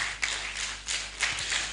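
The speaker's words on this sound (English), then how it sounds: "A round of applause for Dr." Scattered claps from an audience at a professional education seminar, a few distinct hand slaps over a broad hiss of room noise, modest and thin rather than a full ovation.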